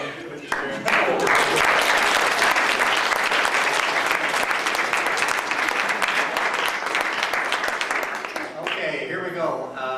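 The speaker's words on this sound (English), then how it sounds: "do your applause for the best story of the night" Wedding dinner guests at the Joseph Smith Memorial Building break into loud, sustained applause, dense clapping that fills the room for about eight seconds before a voice comes through as it fades.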